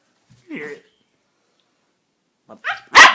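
A dog barks in brief, sharp bursts: a short bark early, then after a pause a rapid run of two or three louder barks at the end, near and clear against silence.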